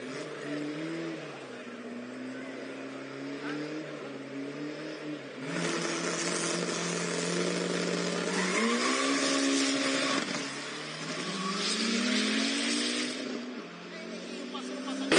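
A 4x4 truck drag racing on a strip in Goiânia, its engine roaring and climbing through revs in a long, loud acceleration pull, with a commentator's voice over the engine noise.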